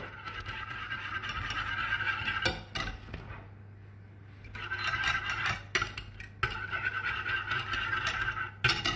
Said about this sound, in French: vous mettez votre fouet dans la casserole